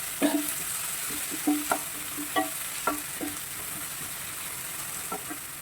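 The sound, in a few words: sautéing tomatoes and onions in a pan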